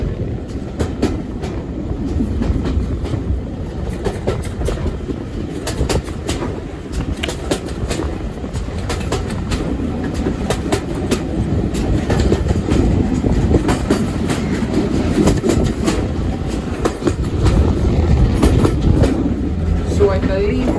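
A heritage train runs on the Great Central Railway between Loughborough and Quorn. Heard from on board, it gives a loud continuous rumble with rhythmic wheel clatter, and faint voices come through underneath.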